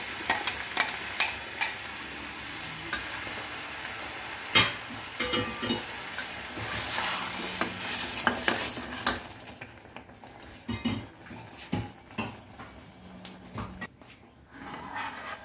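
Blended tomato for soup fries in a pan with a steady sizzle, while a utensil stirs and knocks against the pan in scattered clinks and scrapes that grow sparser toward the end.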